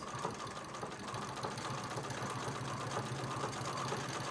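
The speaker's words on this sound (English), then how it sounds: "So I'm just going to start with the quilting of the wreath." A sewing machine free-motion quilts on leather, its needle running in a fast, even mechanical chatter with a low motor hum, steady and close, with no talking.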